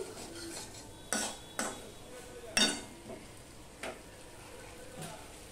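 Tengra fish masala with pointed gourd sautéing in a pan, giving a low steady sizzle broken by several sharp scrapes and stirs of a utensil against the metal, fairly quiet and without talk.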